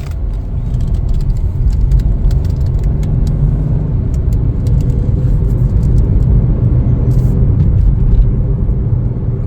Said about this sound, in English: Take it for a little test drive.